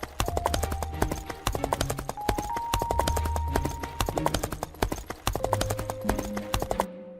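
Horses' hooves clip-clop steadily in a close, busy rhythm of sharp knocks, with occasional whinnies and no talking.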